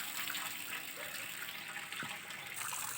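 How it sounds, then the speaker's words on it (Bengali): A tap running into a basin, filling it with water for watering rooftop plants, a steady close gushing splash that holds at an even level throughout. "জল ভরতে দিয়ে দিয়েছি, গামলায় জলটা ভরুক"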